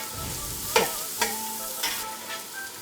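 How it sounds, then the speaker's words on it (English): Pork frying with onions, celery and green onions sizzles steadily in a pan, with several sharp scraping stirs cutting through the hiss at intervals. "Okay, you keep frying"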